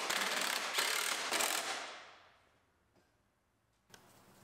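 A ratchet clicks rapidly and steadily for about two seconds while bolts are run in on a 2019 GMC Sierra Denali truck being repaired, then fades, followed by a single faint metallic clink.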